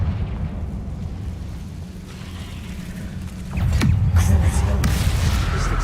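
A Confringo blast spell strikes a barricade in Hogwarts Legacy, a loud burst at about three and a half seconds rising over a steady low rumble and continuing as a sustained roar.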